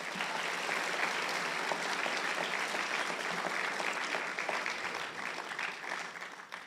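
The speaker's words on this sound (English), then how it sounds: "I think they deserve a round of applause," A graduation ceremony crowd at Merit Academy gives a round of applause for caregivers and mentors, a sustained wash of clapping heard from a distance with no talk over it.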